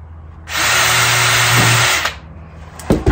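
A power drill whirs loudly and steadily for about a second and a half, drilling through the edge of a DIY pochade box, then winds down, followed by a couple of light knocks.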